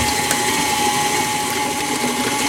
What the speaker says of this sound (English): Now we're going to beat in our 4 eggs.